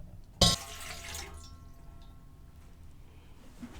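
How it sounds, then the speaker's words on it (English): Excess hot water is dumped out of a glass canning jar in one short, loud splash, followed by faint trickling and drips. "you're going to dump out the excess water"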